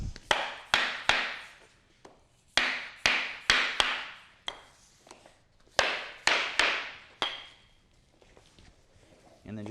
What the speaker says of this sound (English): you got your little block that I noticed that you've cut just to bump it in place